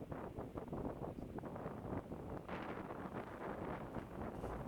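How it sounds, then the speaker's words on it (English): Strong gusting wind on an open disc golf course, about 40 miles an hour, buffeting the microphone in a loud continuous rumble that swells and dips without pause. "The wind is probably going about 40 miles an hour right now."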